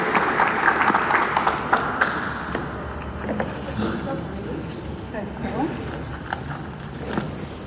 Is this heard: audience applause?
yes